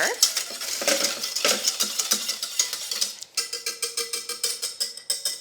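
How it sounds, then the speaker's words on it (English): A whisk beating a thick gummy mixture in a pot with the heat turned off, giving a quick regular rhythm of scraping, clinking strokes against the metal, close and steady for several seconds. "I'm turning the heat off and continuing to whisk it."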